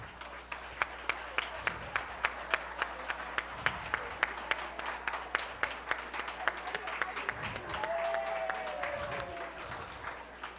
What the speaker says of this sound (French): une bonne main d'applaudissement pour notre comité.